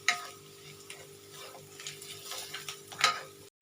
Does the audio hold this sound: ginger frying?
yes